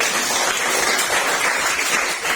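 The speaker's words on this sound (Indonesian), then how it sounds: "Kasih tepuk tangan untuk kelompok 1." Steady, dense applause from a classroom group filling the whole stretch, a continuous wash of clapping with no talk over it.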